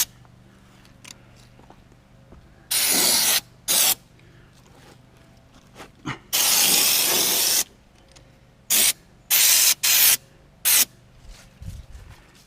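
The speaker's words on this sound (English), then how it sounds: "I also want to spray the leading edge of these flares." Fluid Film rust protection sprayed from an aerosol can onto the flares of a Ram truck, heard as several loud, close hissing bursts of varying length, some long and some short, with quiet gaps between them.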